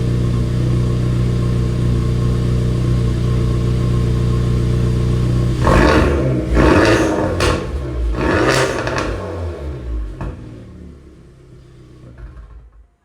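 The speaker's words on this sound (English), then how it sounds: "Let's give it a couple revs." A car with a Sxth Element prototype exhaust idles with a deep steady exhaust rumble, then revs sharply several times in quick bursts before settling and fading back down.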